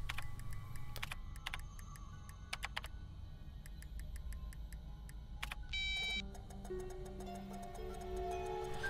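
A password tapped out on a computer keyboard in the Friday the 13th horror video game, with irregular clusters of crisp key clicks over a low steady hum and a short electronic tone near the end.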